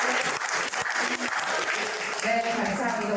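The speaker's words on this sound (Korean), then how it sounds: "큰 박수 부탁드립니다." Big applause from a crowd at a civic launch ceremony in Hanam welcoming an arriving guest, a former council chair; dense continuous clapping fills the room with voices mixed in throughout.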